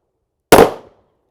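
A single sharp, loud gunshot from a .45 Super 1911 fitted with a Jarvis match barrel, a sudden close crack followed by a brief decaying tail and then silence.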